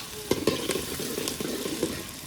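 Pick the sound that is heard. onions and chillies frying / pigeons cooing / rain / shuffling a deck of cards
onions and chillies frying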